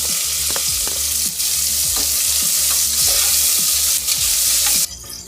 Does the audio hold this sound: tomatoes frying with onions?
yes